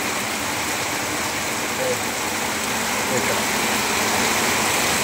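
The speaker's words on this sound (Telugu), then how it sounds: "జనగామ జిల్లాలో నైట్ నుంచి తెల్లవార్లు వర్షం పడుతూనే ఉంది." Steady, unbroken rain pours down in a village in Jangaon district after falling all night, a dense close hiss with no pauses and faint low rumbles beneath.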